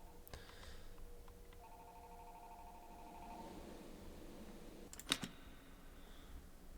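Telephone rings in the Five Nights at Freddy's Rewritten 87 remake game, faint tonal ringing layered with soft clicks and a sharp click burst midway, no talking.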